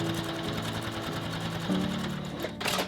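A sewing machine stitches along the edge of a fabric pouch panel in a continuous, even mechanical hum, close up, ending with a short rustle as the fabric is handled.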